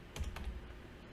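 Quick keystrokes on a computer keyboard entering the gpupdate /force command, a short burst of a few close clicks within about a second, with no talk.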